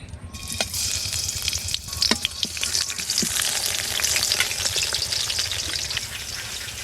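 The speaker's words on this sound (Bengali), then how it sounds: "বেগুনটা ভেজে নেব, তাই সাদা তেল দিয়ে দিলাম কড়াইতে।" Eggplant sizzles in hot white oil in a wok, a busy close crackle with scattered pops and spatters running steadily throughout.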